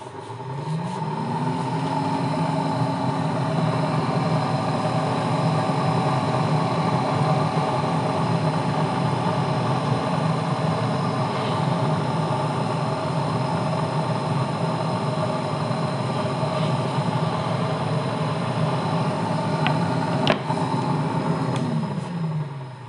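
Small homemade dust collector built from a 2-inch snail (centrifugal) blower spins up and runs with a steady whirring hum for the whole stretch, close and constant, then winds down at the end.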